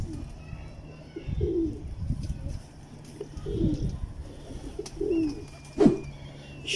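Teddy pigeons of a show bloodline coo close by in repeated low, throaty bursts spaced a second or two apart, with a faint hum and soft rustling underneath and one sharper call near the end.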